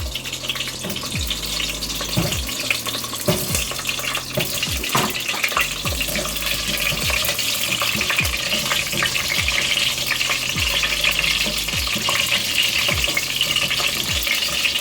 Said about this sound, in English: The oil is nice and hot. I'm keeping the flame on medium. I'm going to cook the brinjals.